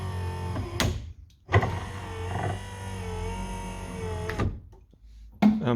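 A restored power window motor on a 1964 Chevrolet Impala whirs steadily for about three seconds, framed by clunks at start and stop, then a second brief thud and whine at the end; close and fairly loud, no talk.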